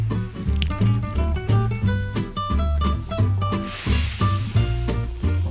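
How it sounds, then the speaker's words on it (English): Loud, steady sizzling of vegetables frying in olive oil in a hot pan while camping, with crackles and pops and stirring clatter throughout, up close. "Let's get that sizzling."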